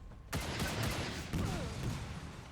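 An enemy barrage of gunfire erupts in XCOM 2: War of the Chosen, bursting in suddenly after a brief hush and rolling on as a dense, noisy volley with scattered sharp cracks.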